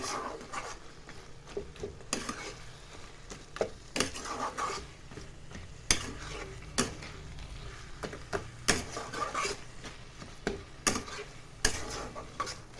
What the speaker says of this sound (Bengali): আর দু চার মিনিট নাড়াচাড়া করবো